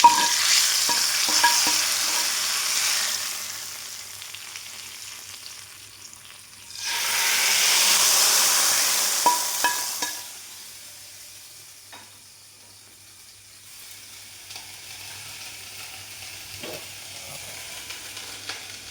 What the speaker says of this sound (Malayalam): ഞാൻ താളിച്ചത് ഇതിനകത്തേക്ക് മാങ്കറി വെച്ചെടുക്കണം